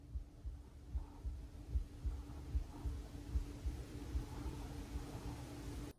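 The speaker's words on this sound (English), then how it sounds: "or was that actually her heartbeat?" A slow, muffled heartbeat pulses steadily in paranormal footage, low thumps recurring at a regular rhythm beneath a constant hum, faint and close throughout.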